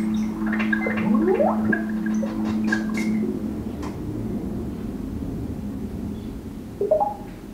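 An Apple TV 4K plays a buzzing test tone during color balance calibration: a steady low drone lasting about three seconds, with short chirps around it, then fainter room noise and a brief sound near the end.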